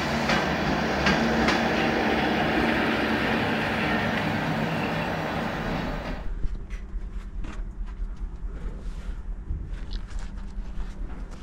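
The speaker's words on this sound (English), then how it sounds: "we will hear when the train comes in" A steam train rumbles loudly and continuously as it arrives at a station, then the roar stops abruptly, leaving quieter station ambience with occasional clanks.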